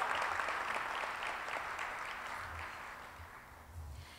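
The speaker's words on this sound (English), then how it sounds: "Let's give her a big round of applause." Audience applause at a Martin Luther King Jr. commemoration honoring a high school student, a soft, distant round of clapping that gradually thins out, with faint murmurs underneath.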